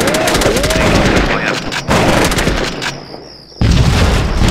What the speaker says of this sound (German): Granate. Ich wiederhole. Wir haben eine Granate.